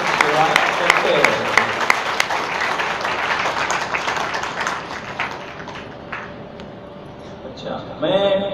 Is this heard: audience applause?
yes